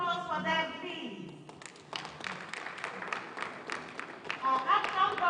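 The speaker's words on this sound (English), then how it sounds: "A resounding applause for them, please." Audience applause at a live Lagos State government event: someone speaks, then scattered clapping from the crowd builds and grows louder toward the end.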